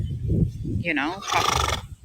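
A horse neighs once, a rising-then-falling whinny clear above low background noise, right after a moment of talk.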